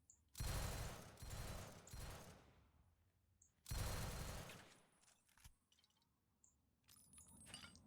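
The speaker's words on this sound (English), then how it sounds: "Could only one of you guys shoot at me at a time?" Enemy gunfire in the video game Fallout 3 comes in two loud bursts of rapid shots with crackling, glassy impacts, followed by quieter scattered shots and clatter.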